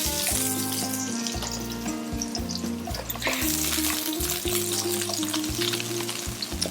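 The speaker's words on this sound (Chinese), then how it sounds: "那我们先爆香它的炒料" Garlic and aromatics stir-fry in a wok, giving a loud close sizzle with scraping and tossing, while steady music or a low hum runs underneath.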